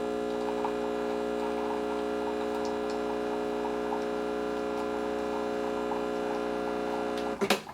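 A Breville Barista Express espresso machine pulling a shot, a steady, fairly loud pump hum with layered tonal buzz holding evenly throughout, ending in a short clatter.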